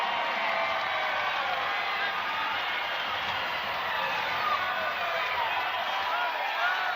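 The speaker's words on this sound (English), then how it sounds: "Hamby, the crowd actually does go wild." Arena crowd at a WNBA basketball game between the Las Vegas Aces and the Phoenix Mercury, a dense, steady roar of cheering and whooping that stays loud and unbroken for the whole stretch.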